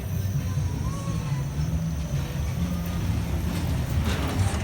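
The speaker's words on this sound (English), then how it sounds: "Okay, it's a launched coaster, I've decided." Santa's Runaway Train, a launched funfair roller coaster at Winter Wonderland, rumbles along its track in a continuous loud rolling roar with faint crowd noise, heard from on board.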